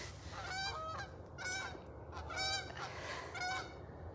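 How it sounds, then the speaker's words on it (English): Geese honking in a park, four loud, close bursts of nasal honks spaced about a second apart over a low background rumble. "We have a lot of geese here right now,"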